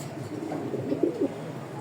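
A racing pigeon's soft, low coo rolls out briefly, close by, over a quiet background hum.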